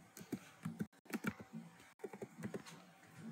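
A computer keyboard is typed on in Word, with quick, irregular key clicks in short bursts and two brief pauses, quiet and close with no talking over it.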